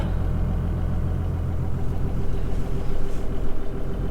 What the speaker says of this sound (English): Here we are in the cab, idling in the driveway